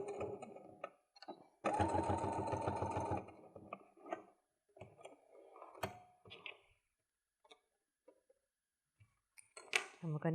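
A sewing machine stitches a coin purse seam in a short, loud steady burst of rapid needle clatter, surrounded by quiet handling clicks and taps, with a person talking briefly.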